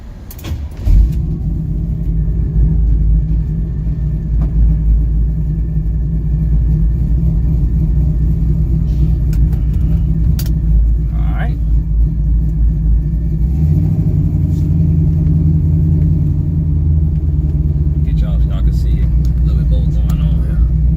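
A car engine cruises on a ride, a loud, steady low rumble heard from inside, with a slight change in pitch partway through as the speed shifts.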